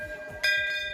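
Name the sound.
temple bell being rung by devotees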